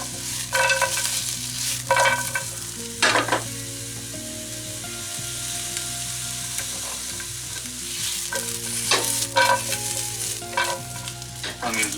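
Carrots, potatoes, tomatoes and peppers sizzle in a pot under steady stirring, a continuous frying hiss broken by repeated utensil scrapes and knocks against the pot.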